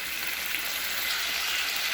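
Chicken and mixed vegetables cooking in a pan, giving a steady, even sizzle close by with no voices.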